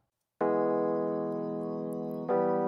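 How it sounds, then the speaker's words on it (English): Sustained Rhodes electric piano chord in a pop song arrangement, ringing steadily for about two seconds before a fresh chord is struck, warm and close with no voices. "It's like a Rhodes electric piano."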